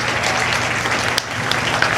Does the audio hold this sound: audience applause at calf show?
yes